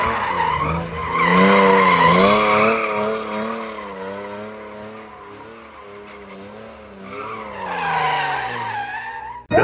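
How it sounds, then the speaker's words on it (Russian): Car drifting through the first corners after a handbrake initiation, engine revving up and down in long rising and falling sweeps with sustained tyre squeal, close and loud throughout, nobody speaking. "Start on the first corners. Speed up. Initiation with the handbrake."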